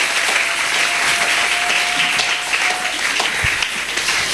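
Sustained, loud applause from a church congregation, a dense wash of many hands clapping continuously with a faint sustained tone and murmuring voices underneath.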